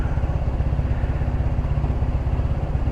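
A GY6 150cc scooter engine fitted with a new exhaust runs loud and close, with a steady, pulsing low throb that hardly changes, more like a rough idle than a rev.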